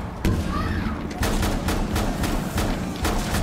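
A shotgun in the tactical shooter Rainbow Six Siege fires around eight sharp, loud blasts in an uneven rhythm at close range, each with a short boomy tail.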